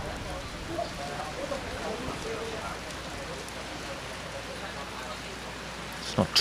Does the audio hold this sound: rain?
yes